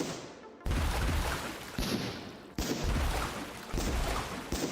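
Cannons firing in a pirate ship game, a series of four or five loud booming blasts at irregular intervals, each with a rumbling, crackling tail.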